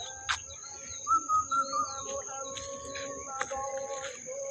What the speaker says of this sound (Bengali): দেখেন কোকিলের শব্দ নির্জন এলাকায় কিভাবে শোনা যায়।